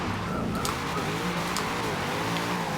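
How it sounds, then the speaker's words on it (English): Oversteering car drifting in Forza Horizon 2, a steady engine drone with tire noise running continuously and loud throughout, with no pauses. "Oh, I got that oversteer on this thing."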